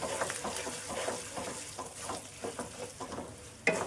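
Ginger, curry leaves and asafoetida are stirred in a pan of hot oil, giving a soft sizzle with repeated scraping stir strokes in an uneven rhythm and one sharper clack near the end.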